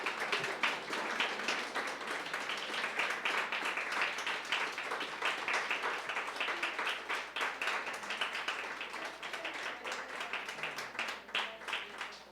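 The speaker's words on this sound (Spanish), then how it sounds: "Eso merecería un aplauso para el Señor." Church congregation applauding at a Sunday service, a dense steady wash of many hands clapping for about twelve seconds at moderate distance, with no speech over it.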